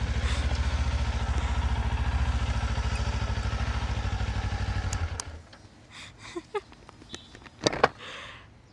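Motorcycle riding, with a loud steady engine drone for about five seconds that then cuts out, leaving quieter clatter, handling noises and a few sharp knocks.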